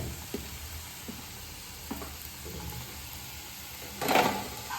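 Ginger garlic paste sizzling in a pan of oil for paneer butter masala, a soft steady frying hiss with a few small clicks and a louder burst of stirring near the end, no talking.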